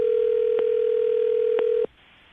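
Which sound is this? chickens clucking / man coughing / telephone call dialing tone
telephone call dialing tone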